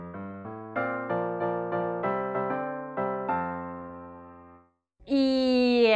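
An anthem melody played note by note from photographed sheet music, a clean keyboard-like instrument striking evenly paced single notes, then a brief pause before a louder, brighter sustained chord enters.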